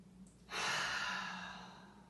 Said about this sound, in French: prenez le temps d'inspirer par le nez pour expirer par la bouche